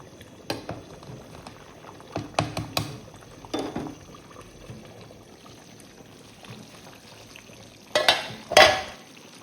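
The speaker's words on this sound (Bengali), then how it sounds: "এখন রোস্টটা রান্না করতেছি আর ভাত রান্না করা হচ্ছে সাহারির জন্য।" A roast cooks in a pot on a gas stove, with a low bubbling simmer under scattered clinks, scrapes and stirring knocks, and a louder burst of liquid sizzling and clattering near the end, with no talking.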